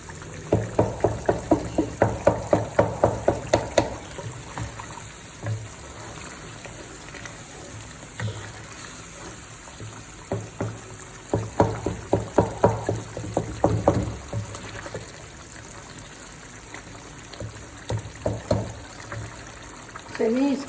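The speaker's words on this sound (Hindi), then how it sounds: "अब इसकी सिर्फ भुनाई बाकी है।" Chicken karahi with softened tomatoes is fried and stirred in a pan, making rhythmic bursts of sizzling and scraping that come in waves, close by, while someone talks.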